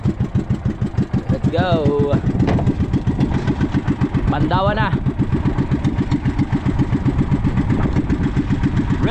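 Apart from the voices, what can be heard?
boat motor engine starting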